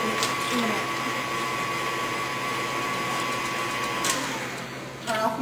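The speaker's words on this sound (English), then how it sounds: "Turn off my mixer and scrape down the sides." An electric mixer beats cream cheese, milk and seasoning for a tater casserole with a steady, moderately quiet motor whine that cuts off after about four seconds, followed by a brief clatter.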